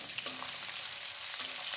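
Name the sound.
tempering spices sizzling in hot oil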